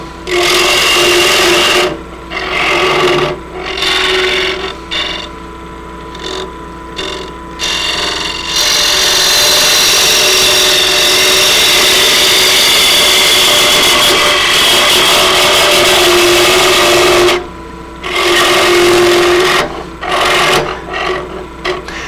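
Wood lathe spinning a quaiche bowl while a gouge cuts into the wood, a loud, continuous scraping rasp over the motor's steady hum, broken by short pauses and resumed cuts.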